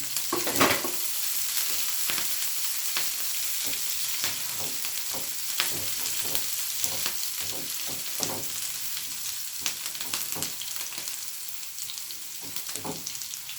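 Ginger and green chillies fry in hot oil for a mango pickle, a continuous sizzling hiss at close range, broken by regular clicks and scrapes of a stirring utensil against the pan, with nobody talking.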